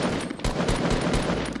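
Rapid bursts of gunfire in a Fortnite match, a dense run of sharp, repeated shots with brief gaps, loud and close.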